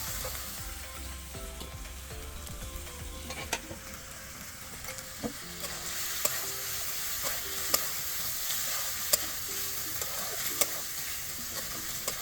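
Fried potatoes go into a Kashmiri chili spice masala in a pan for dum aloo and are stirred, giving a soft, steady sizzle punctuated by sharp spatula clicks every second or so.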